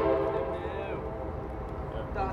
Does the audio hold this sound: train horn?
yes